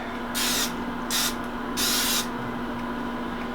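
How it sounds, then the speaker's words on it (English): Cooking spray hisses into a small pan in three short bursts, the middle one briefest, close by over a faint steady hum. "Give him a quick little spray"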